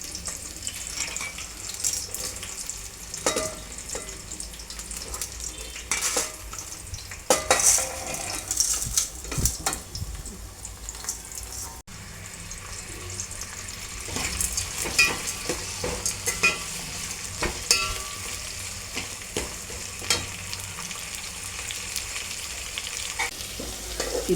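Spices tempering in hot ghee for upma, with crackling sizzle, a spoon scraping and clinking against the pan, and intermittent sharp knocks as the mixture is stirred, close and without talk.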